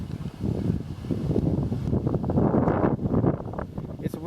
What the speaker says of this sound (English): It's windy. I don't know if you can hear the wind or not.